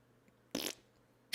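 Two short, wet farts break a near-silent room with a faint low hum, the first lasting about a quarter second and the second cut off at the end.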